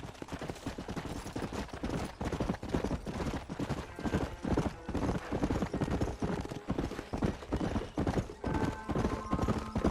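Horses galloping in the Western video game Red Dead Redemption, a dense rapid drumming of hooves close and loud throughout, with faint game effects behind it.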